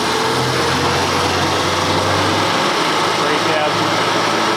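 A tuned stage 1 Mini 998 engine runs on a rolling road at around 2000 RPM, giving a steady, close, buzzing hum with a brief low surge early on.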